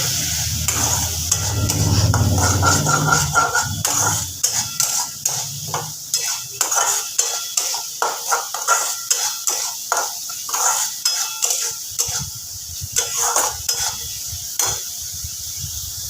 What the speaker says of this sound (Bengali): সামান্য একটু জল দিয়ে মশলাটাকে খুব ভালো মতো কষিয়ে নেব